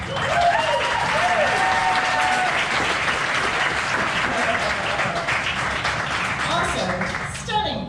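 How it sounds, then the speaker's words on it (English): An audience at an Ignite Denver speaker event gives a big round of applause, dense and steady clapping filling the room for several seconds, with a few voices and whistles rising over it before it fades. "So please, big round of applause."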